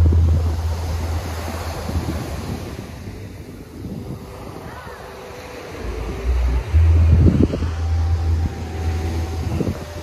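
Surf rolls and washes steadily against Pantai Boom beach in Banyuwangi, Indonesia, mixed with gusty wind buffeting the microphone and a low rumble swelling near the end.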